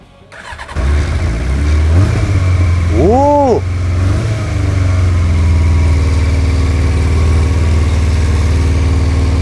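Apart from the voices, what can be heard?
motorcycle engine starting and idling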